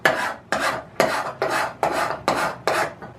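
A metal file rasping across the iron of an Ohio Tool Co hand plane: seven loud, even strokes about half a second apart, each a harsh scraping push, close and alone.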